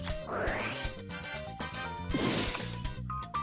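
Smashing Ground card effect in Yu-Gi-Oh! GX Tag Force 3: a burst of crashing, whacking impacts layered over game music, with two heavy strikes and scattered smaller hits, fairly quiet overall.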